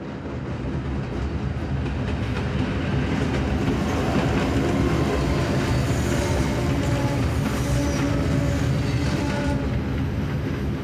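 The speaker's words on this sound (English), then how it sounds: "It's a very unkempt track that train is on." Train rolling along a neglected, unkempt track in a horror video game, a dense continuous rumble with clattering wheels, steady and loud throughout with no talk.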